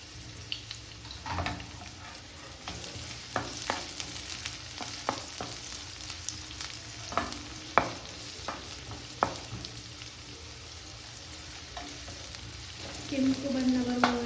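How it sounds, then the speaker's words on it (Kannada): Chicken frying in a pan for a Mangalorean coconut curry, a soft steady sizzle broken by scattered clicks and scrapes of stirring, fairly quiet and close, with a brief hum near the end. "ಕೆಂಪು ಬಣ್ಣ ಬರುವವರೆಗೆ ಫ್ರೈ ಮಾಡಬೇಕು ಇದನ್ನು."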